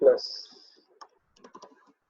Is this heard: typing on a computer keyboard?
yes